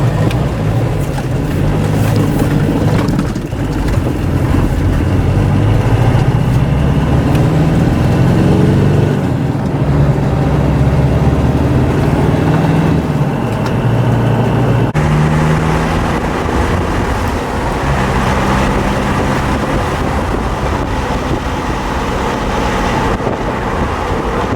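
A lifted Volvo 245 with a swapped Mitsubishi turbo diesel engine pulls loudly through the gears, its engine drone rising and falling with a clear shift break near the middle, heard close and without talk.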